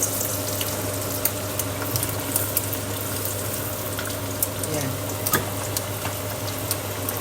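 Chicken pieces frying in a small pan of oil, a steady dense sizzle with a low hum underneath and scattered faint pops throughout, with no clear speech over it.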